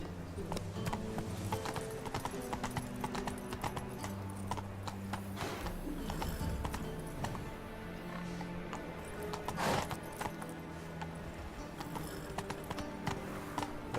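Roach the horse's hooves clip-clop steadily in The Witcher 3 while descending stairs, a continuous, even rhythm over a low musical drone, with a brief whoosh midway.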